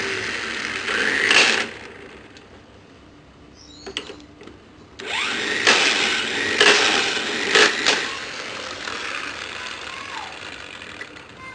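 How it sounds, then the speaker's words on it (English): An impact wrench removing a 19mm nut on a SYM VTS 200 scooter during a belt change, heard as several loud, close bursts of hammering rattle with brief gaps between them and no speech. "it's a 19mm nut, and impact will be able to remove this without any problem"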